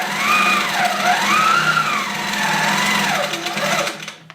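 A Coronet quilting machine's motor whirs loudly with a rapid mechanical rattle, its pitch rising and falling as the speed changes, then stops.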